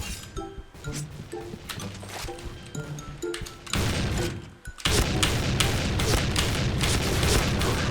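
Gunfire in a first-person shooter game: rapid, dense shooting and booming impacts that grow louder and more continuous in the second half, over a busy mix of game effects.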